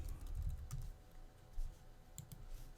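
Keys are tapped on a computer keyboard to enter a math expression into the Desmos graphing calculator. Quiet, scattered clicks of uneven rhythm sit over a low, soft room hum.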